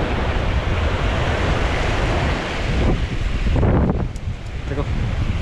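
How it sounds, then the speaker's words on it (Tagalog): Big ocean waves surge and crash in a loud, continuous roar, with heavy wind buffeting the microphone throughout. "Grabing alon."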